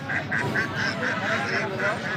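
Three-month-old domestic ducks, about a kilogram each, at a large poultry market in Rajshahi. They quack loudly and close by in a steady run of repeated calls, about ten in two seconds, with faint talk in the background.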